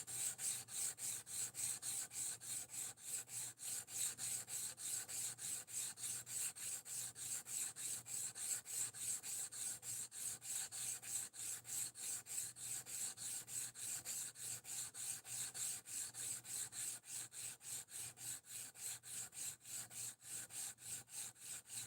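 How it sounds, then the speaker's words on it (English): Knife handle scales being sanded flat on 320 grit abrasive, a steady rapid back-and-forth rasping stroke repeated evenly throughout, close and alone without any voices. "I'm flattening the scales so that I can bring them up to a polish."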